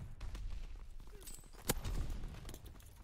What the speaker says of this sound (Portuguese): Tacando granada.